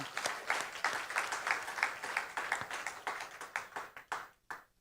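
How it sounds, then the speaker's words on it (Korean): A church congregation claps in praise during a worship service, a brisk run of rhythmic claps that fades and breaks off near the end, with no voices over it. "우리 그 주님께 영광의 박수를 올려드리십시다"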